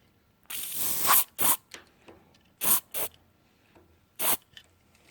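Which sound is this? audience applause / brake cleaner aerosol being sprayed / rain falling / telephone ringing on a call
brake cleaner aerosol being sprayed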